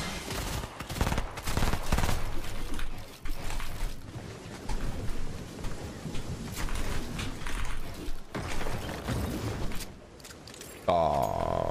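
Dense Fortnite gunfire in Tilted Towers, where a mythical shotgun is being used, comes as loud, rapid overlapping bursts and booming shots that fill most of the stretch, easing briefly before a final sharp burst.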